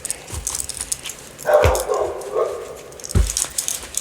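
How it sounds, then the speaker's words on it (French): A dog barks in a house, with scattered barks and a louder sustained yelping burst in the middle, then another sharp bark near the end, all fairly close and clear. "Je suis désolée, hein, pour le chien qui aboie."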